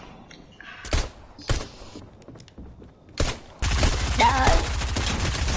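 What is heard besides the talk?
gunfire in the video game Fortnite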